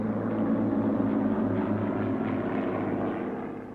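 Hawker Hart biplanes of 15 Squadron in 1935, powered by Rolls-Royce Kestrel V12 piston engines, drone steadily with a loud, sustained propeller roar that fades slightly at the end, with no talk over it.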